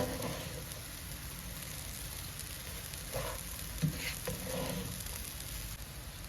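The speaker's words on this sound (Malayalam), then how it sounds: "നന്നായി ഇങ്ങനെ വറുത്തെടുക്കണം കേട്ടോ." Washed rice roasting in a pan gives a soft, steady crackling sizzle, quiet and even, with a few louder stirring scrapes near the middle.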